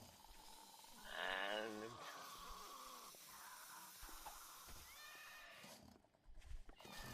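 Spider enemies in 7 Days to Die make raspy, wheezing breaths from upstairs, with a rising whinny-like rasp followed by hoarse gasping, heard mixed with game noise while someone talks over it.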